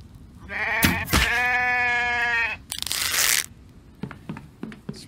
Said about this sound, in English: Spring hits, and now we've got our share of animals. We need to get that sheep.